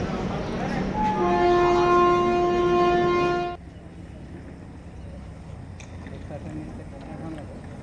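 A train horn sounds one long, loud, steady blast at Udhampur railway station during the Amarnath Yatra, then cuts off, leaving quieter station ambience.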